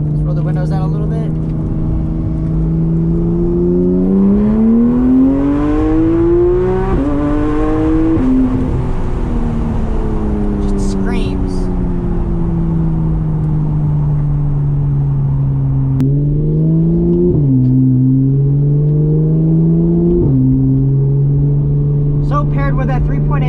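A 2015 Porsche 911 GT3's 3.8-liter, 475-horsepower flat-six engine drones and revs continuously, pitch rising and falling through gear changes, heard from inside the car with steady road noise.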